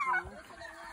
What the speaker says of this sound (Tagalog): May mga pabo pa.